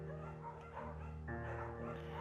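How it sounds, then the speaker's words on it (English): A scruffy, undersized beagle in the video game Firewatch gives soft yips and whimpering barks, moderately loud over a steady low musical backdrop. "Julia wants to get a dog. There's a scruffy, undersized beagle"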